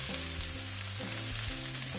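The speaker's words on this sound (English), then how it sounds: "just gonna drop in the onions, and you hear that sizzle right off the bat" A loud, steady sizzle of onions frying in a hot pan over high heat fills the short clip, continuous with no talking.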